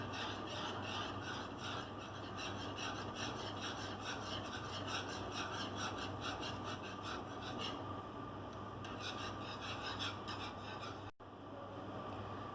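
Fresh cream being stirred into a kulfi mixture gives a steady, continuous rasping scrape that runs without pause, with no talking.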